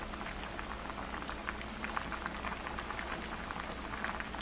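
Shrimp and corn chowder simmering in a pot, giving a steady close bubbling and popping texture, dense and even throughout with no talk over it.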